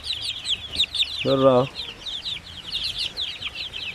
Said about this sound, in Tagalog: Okay kaya itong mga manok, walay problema.